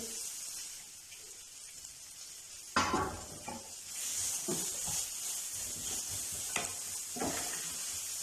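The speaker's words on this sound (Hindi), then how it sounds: "प्याज को हमने सौते करना है, बहुत ज़्यादा फ्राई नहीं करना।" Chopped onion sizzles as it is sautéed in a pan, the frying starting with a sudden burst and a steady hiss, broken by a few scrapes and clinks of a stirring utensil against the pan.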